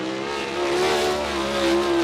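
USAC sprint car racing on the track at Bloomington Speedway, with a loud, sustained engine howl whose pitch climbs steadily as the car accelerates, heard alone.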